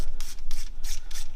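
A power driver runs external Torx E7 bolts down on a GM 6T70 transmission, giving five short, evenly spaced whirring bursts close up with no talking.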